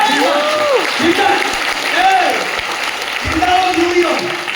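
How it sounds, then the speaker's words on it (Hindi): An audience at a large indoor meeting claps on request, with steady applause running under someone speaking loudly over a public address system. "ताली बजाओ।"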